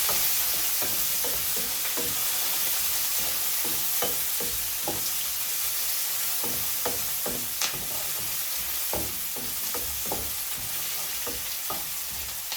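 Green chillies and curry leaves sauté in a pan with a steady, close sizzle, punctuated by repeated scraping and clacking strokes from stirring.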